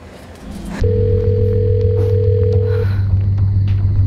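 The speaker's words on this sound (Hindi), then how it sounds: "कब से फोन लगा रही हूँ लेकिन वो फोन ही नहीं उठा रहे" An unanswered phone call: a telephone line tone sounds steadily after a click, a continuous electronic hum with a higher tone that drops out partway, no one answering.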